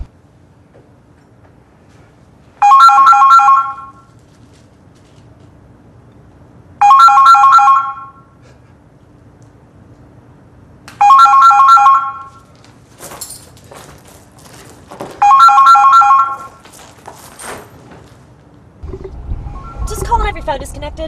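Phone ringing unanswered on the other end: four evenly spaced trilling rings, each about a second long, with quiet gaps, then faint rustling and movement near the end.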